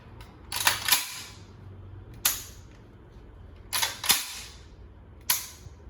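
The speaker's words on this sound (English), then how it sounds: "get behind the gun and fire. Fire. Fire. Fire." A handgun fires four sharp, loud shots at uneven intervals, two close together early, one alone, then another pair and a final shot, each with a quick decaying ring, no talk over them.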